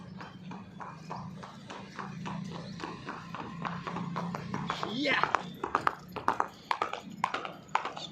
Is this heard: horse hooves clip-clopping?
yes